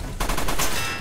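Rapid bursts of gunfire in the mech strategy game Front Mission 1st Remake: a short run of loud, closely spaced shots after a brief quiet lead-in, with no talking.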